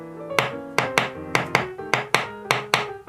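Hand claps beat out a quick dotted quaver–semiquaver rhythm, sharp close slaps arriving in long-short pairs, with a steady sustained tone ringing underneath the claps.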